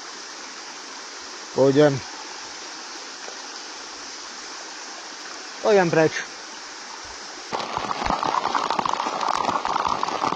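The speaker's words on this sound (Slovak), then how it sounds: "Takže zase hnusne prší" Rain falls on the Ružín reservoir around a kayak, a soft hiss that swells into a steady close patter in the last few seconds, after two brief bursts of a man's speech.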